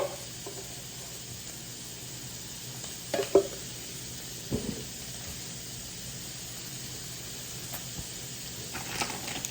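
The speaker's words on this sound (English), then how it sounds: "I wish you could smell the sausage in here cooking" Sausage cooking in a pan with a soft, low frying sizzle, broken by a few scraping stir and utensil knocks, quiet and close, with no talking.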